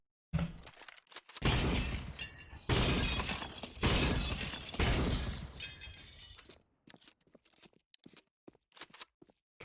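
Repeated glass shattering in a video game map, several loud crashing bursts of breaking glass in quick succession, then sparse tinkling and crunching fragments, with no talking.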